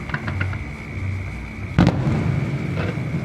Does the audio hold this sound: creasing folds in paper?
no